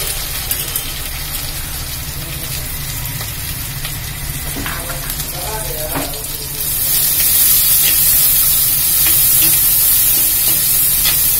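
Steady sizzling of small shallots frying in hot oil in a clay pot, growing louder and brighter partway through, with a few faint scrapes and clinks.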